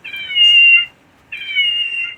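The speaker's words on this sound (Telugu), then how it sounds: "ఇక్కడ ఒక చిన్న బొమ్మ ఉంది, పిల్లి. ఆ సౌండ్ చూడండి." A small toy cat gives two electronic meows, each a clear tonal, sustained note close to the microphone, separated by a short silent gap, with a brief click at the very end.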